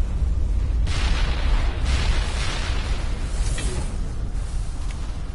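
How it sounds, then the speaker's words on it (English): A rumbling explosion in the video game Mass Effect Legendary Edition, a sustained loud roar with booming bursts and whooshing debris. "Hopefully it's just a bottom floor explosion."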